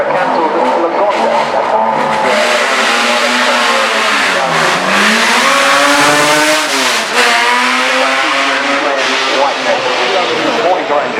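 An Aston Martin DBR2 race car with a four-litre straight-six engine accelerates at the Goodwood Festival of Speed, its loud, close engine note rising and dipping as it revs hard through the gears.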